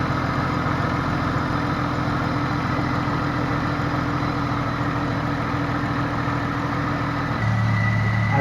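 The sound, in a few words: Jeep XJ engine running at about 2000 rpm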